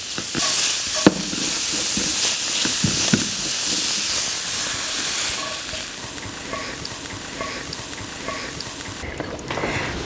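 Meat sizzles and crackles steadily in a hot pan for doenjang pasta. The frying stays loud and hissy throughout, with occasional sharper pops and clinks from stirring.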